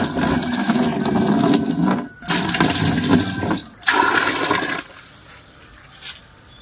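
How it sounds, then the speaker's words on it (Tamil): Tap water pouring into a guppy fish tank, a loud steady gush that breaks off briefly twice and then stops, leaving a faint drip and quiet trickle at the end. "ஸோ முதல்ல நம்ம தண்ணியை ஃபில் பண்ணலாம்."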